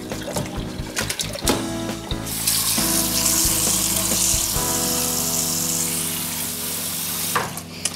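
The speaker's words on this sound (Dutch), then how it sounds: "En dan gaat er weer even vers water in." Fresh tap water runs into a pot of floury potatoes in a kitchen sink, a steady close rush that begins after a few knocks and clatters and stops near the end, with no talking.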